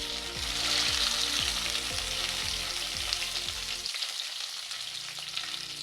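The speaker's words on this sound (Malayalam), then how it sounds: "ഓയിൽ ചൂടായിട്ടുണ്ട്. ഇതിലേക്ക് കറിവേപ്പില ഇട്ട് കൊടുക്കുക." Curry leaves drop into hot oil in a home kitchen, setting off a steady, close, loud sizzle and crackle that holds for the whole stretch, with a softer tonal background underneath.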